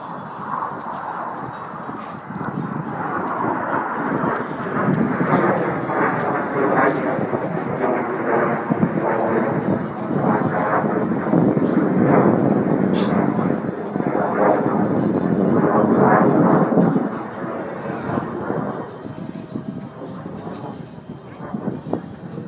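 A propeller airplane flying an aerobatic display at an airshow at Temora, a broad loud engine roar sweeping and swelling for most of the stretch before easing off near the end, with a voice talking over it.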